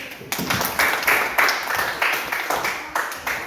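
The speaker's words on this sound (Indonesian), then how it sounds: "Udah bagus semua, tepuk tangan dulu" Elementary school pupils clap hands together in the classroom, a rhythmic run of evenly spaced clap bursts at moderate volume, about two per second, with a little voice underneath.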